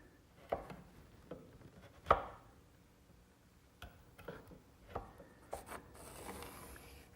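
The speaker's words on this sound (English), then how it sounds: "take a sharp chisel and just shave it away" A sharp chisel shaves a small wooden corner by hand in a workshop, giving a few separate dry scraping strokes and light taps spaced out over several seconds, close and quiet, with no talking.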